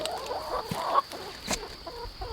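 Chickens in a homestead chicken run cluck in short, scattered calls near and moderately loud over a faint steady whine and low background noise.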